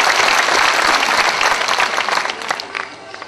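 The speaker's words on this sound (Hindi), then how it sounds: "एक बार ताली बजाएं" Audience at a Hindi comedy poetry gathering breaks into loud, dense applause that holds strong and then tapers off toward the end.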